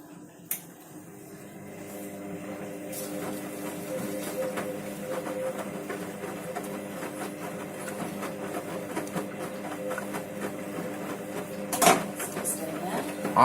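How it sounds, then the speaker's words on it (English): A Candy Grand Vita O washing machine running an eco wash, its motor humming steadily with repetitive mechanical clicking and churning that grows slightly louder over time, and a sharp knock near the end. "I've just never seen a washing machine wash this well on the Eco Wash."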